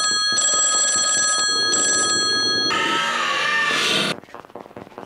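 A telephone rings loudly and steadily, a bright electronic bell-like trill repeating in bursts for about four seconds before cutting off, leaving a quiet room.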